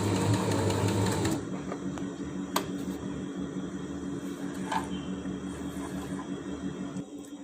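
A sewing machine runs fast and loud for about a second as it edge-stitches a flat fell seam, then stops, leaving a faint hum with a couple of light clicks.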